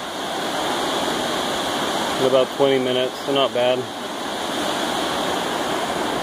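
Broad steady rush of a river flowing beside a hiking trail along the Salmon River, a constant hiss running throughout while someone speaks briefly over it in the middle.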